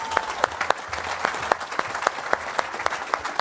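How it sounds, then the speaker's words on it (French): A church congregation in Evry claps together in a steady, rhythmic beat of sharp, evenly spaced hand claps over a soft room murmur, with no voices standing out. "On acclame le Seigneur pour cette parole."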